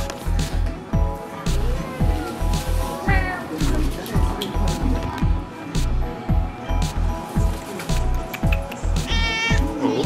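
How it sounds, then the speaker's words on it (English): A cat meows repeatedly at a ferry station in Japan, its cries standing out over busy station noise with rumbling, rhythmic machinery and people talking in the background. "And there's a cat here already."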